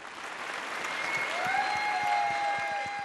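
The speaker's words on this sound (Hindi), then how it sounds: "जोरदार तालियों से स्वागत कीजिए" A studio audience at a Hindi TV reality talent show claps in a continuous wash that swells slightly, while a rising musical tone glides in and holds beneath it.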